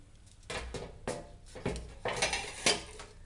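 Metal spoon knocking and scraping against a dish while pressing stuffed button mushrooms, a series of short, close clinks and scrapes about every half second, with no talking.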